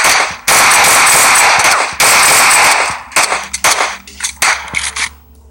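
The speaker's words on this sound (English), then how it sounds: "somebody here shooting me" Gunfire in the battle royale video game PUBG: loud, close bursts of rapid shots, then a scatter of sharper single cracks and pops, with brief pauses between volleys.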